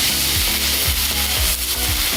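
New York strip steaks sizzle in oil on a 22-inch Blackstone griddle, a steady, loud hiss of frying that runs unbroken under a low rumbling hum.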